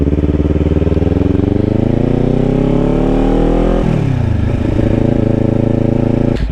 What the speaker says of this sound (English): roll off the throttle, clutch in, shift in the second, roll back on the throttle